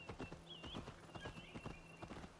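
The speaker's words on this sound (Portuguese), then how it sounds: "o cavalo tava ali embaixo e subiu, o cavalo subir, depois subiu no cavalo" Horse hooves clip-clopping in Assassin's Creed Valhalla on Xbox One S, a steady run of close, repeated hoofbeats with a faint whinny-like tone and game ambience underneath.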